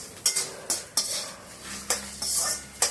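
Dried red chillies, coriander and fenugreek roast in a pan, a spoon scraping and tapping the metal in sharp strokes over a low, faint sizzle, with no one speaking.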